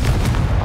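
In Hogwarts Legacy, a Confringo blasting spell goes off with a loud, close, sustained explosive roar and deep rumble that fills the whole short moment without a break.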